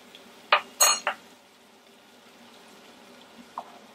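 A spoon stirring plain flour into a pot of leftover lamb hotpot gives a few sharp clinks and scrapes against the pot, clustered near the start and then one soft tap later, with no talking.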